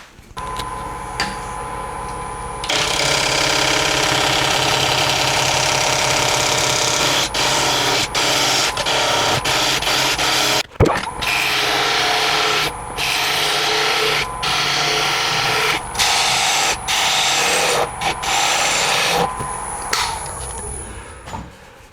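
Wood lathe turning a Bradford pear bowl, a continuous hissing, rubbing scrape from the tool cutting the spinning wood, broken by brief pauses and a few sharp knocks.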